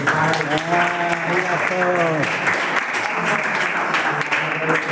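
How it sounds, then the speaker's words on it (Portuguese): A church congregation in Kobe claps steadily and densely for the preacher after the sermon, while a voice talks over the opening seconds of the dense, sustained applause. "もう一度今日御言葉を語ってくださったファーレ先生に拍手をしましょう"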